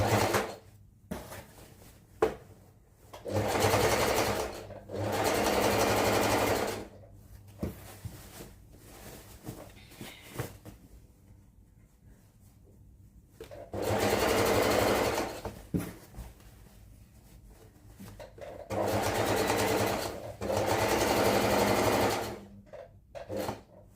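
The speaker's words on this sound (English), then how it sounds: "I'll stitch all the way straight downward to the other side." A sewing machine stitches a straight half-inch seam down a pair of baggy pants in several separate bursts of steady whirring, a few seconds each, with quiet pauses and small handling sounds between them.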